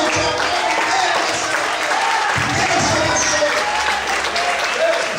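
A church congregation applauds during a worship service, a dense, steady wash of clapping across the whole stretch with mixed voices calling out amid it.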